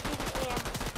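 Rapid gunfire in the Fortnite video game, a quick burst of repeated shots close up with the loudness staying steady, fired during a pirate-weapons round.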